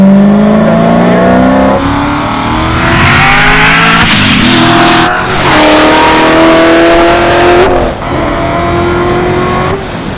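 A Hennessey HPE1000 Z06 Corvette with 1,000 horsepower accelerates hard on a damp track with its exhaust valves open, a loud, close engine roar climbing through the gears with rising pitch between shifts.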